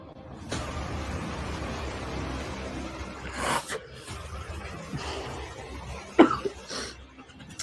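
A few scattered coughs, fairly quiet and somewhat distant, separated by a low room hum.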